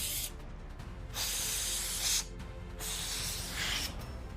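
Gun cleaner sprayed from an aerosol onto a Walther PDP pistol slide, three or four close hissing bursts of about a second each with short gaps between.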